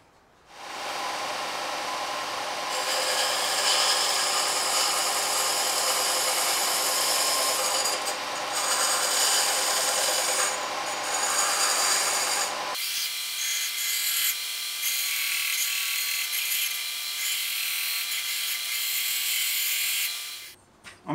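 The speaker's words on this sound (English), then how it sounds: "I'll be doing the bulk of that on my belt sander and then cleaning it up with a file" Wood of an electric guitar neck is shaped along its truss rod channel, giving a continuous, close, abrasive rasping and scraping that shifts to a thinner, higher-pitched tone about two-thirds through before stopping abruptly, with no voices.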